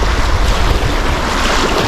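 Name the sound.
river waves around kayaks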